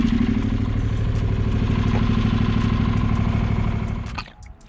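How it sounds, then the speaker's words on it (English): A Honda NC700X motorcycle engine runs after a coolant change, a loud, close, rhythmic idle with a steady clattering pulse and a slight miss, then cuts off abruptly near the end. "Let's run the engine for a bit."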